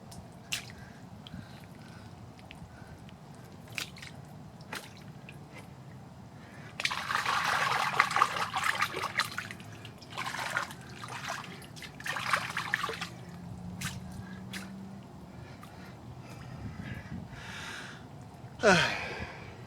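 Water trickling and dripping while someone rinses quicksand mud off outdoors, a low steady background broken by bursts of splashing and pouring, with occasional close drips and a soft squish near the end.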